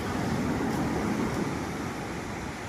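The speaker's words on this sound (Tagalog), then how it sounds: "Malakas nga lang yung alon." Strong surf rolls onto a clear-water beach at Luna, La Union, a dense continuous roar of waves with wind, steady and fairly loud throughout.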